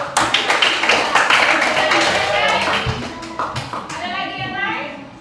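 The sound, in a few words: classroom applause, clapping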